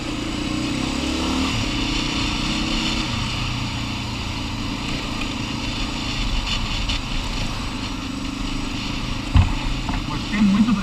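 Honda NX350 Sahara motorcycle with an aftermarket sport exhaust, its engine running in a steady low rumble with slight swells, recorded outdoors with wind noise and people talking nearby.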